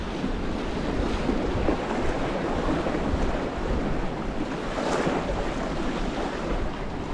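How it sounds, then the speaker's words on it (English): Strong, relentless wind buffeting the microphone by the water while bass fishing, a constant loud roar mixed with surf-like noise and no letup. "So that wind's horrible. Bloody relentless."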